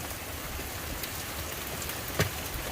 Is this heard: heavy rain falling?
yes